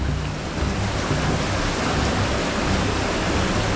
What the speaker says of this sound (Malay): Air tu berlagu kat batu.